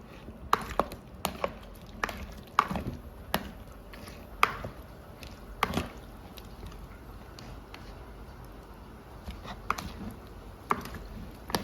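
A knife chops on a cutting board in irregular, sharp thuds, some quicker runs and some spaced apart, with a quiet background.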